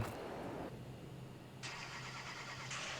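A truck engine cranks and catches close by, then settles into a steady, loud idle with a constant low hum and a higher whine above it.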